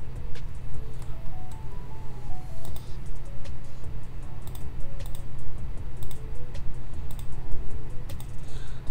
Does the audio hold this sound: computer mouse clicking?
yes